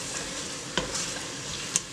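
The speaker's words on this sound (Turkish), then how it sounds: "soğanlarımızı karıştırıyoruz" Onions frying in melted butter in a pan for a Turkish bean stew, with a steady close sizzle and two sharp scrapes as they are stirred.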